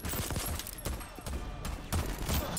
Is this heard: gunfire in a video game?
yes